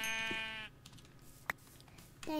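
Sheep bleating in a video game: a long, loud harmonic bleat opens the clip, followed by a quiet stretch with a short click and a second bleat starting near the end.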